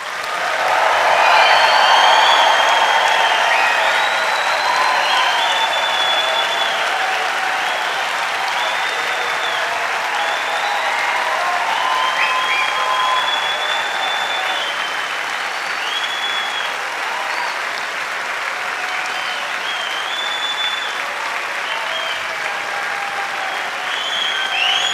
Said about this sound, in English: give us that first round of deafening applause, cheers, hoops and hollers to celebrate the brilliant achievements